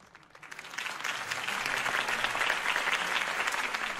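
An audience applauds after Harvey Dent's campaign speech, clapping swelling quickly from a few hands to a dense, sustained ovation that carries on steadily.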